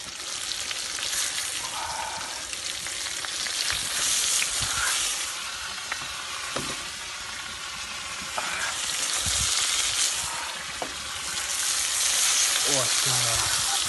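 Beef and potatoes fry in a kazan over an open fire outdoors, a dense steady sizzle and hiss broken by occasional scrapes and knocks as the food is stirred. It sounds close and loud throughout, with no voices.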